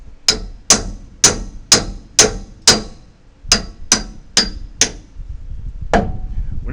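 A clamp bites into a small log with a series of sharp, bright clicks, evenly spaced and close, in two bursts of six and four followed by a single louder snap.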